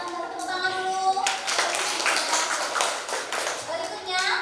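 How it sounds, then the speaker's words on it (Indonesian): Classroom audience of teacher trainees clapping hands after a request, a dense spread of claps running through most of the stretch, with a brief voice and tonal sound at the start. "silakan tepuk tangan dulu"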